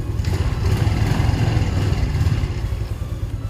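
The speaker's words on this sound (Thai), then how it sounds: "เครื่องยนต์ทำงานได้ปกติ" A used Honda Wave 110 motorcycle engine runs at a steady idle close by, a low even putter with light mechanical clatter and no voices.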